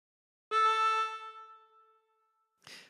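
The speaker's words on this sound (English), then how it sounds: "breathe in through 3 and bend the note to make it sound like this" A single bent draw note on hole 3 of a harmonica, close and clear, starts strong and gradually fades, followed by a brief breathy sound.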